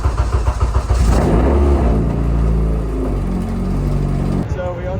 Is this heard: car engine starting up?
yes